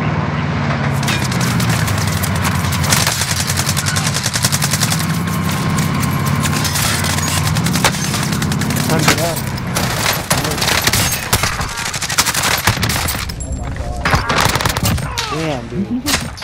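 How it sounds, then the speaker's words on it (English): Rapid automatic gunfire crackles almost continuously through a Call of Duty Warzone (Cold War) match, with dense bursts and sharp cracks of incoming fire, loud and close, while a player's voice talks over the shooting. "Getting shot at from a building down here."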